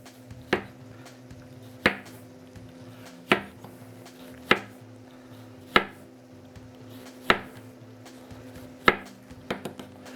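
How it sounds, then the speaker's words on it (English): A knife chopping chili ingredients into small pieces on a cutting board, with sharp, evenly spaced chops roughly every one and a half seconds and a quicker pair at the end, clear and close. "I'm going to cut these into pretty small pieces"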